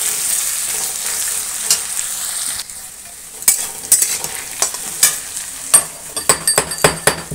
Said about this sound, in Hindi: आलू को फ्राई कर लेते हैं अच्छी तरह से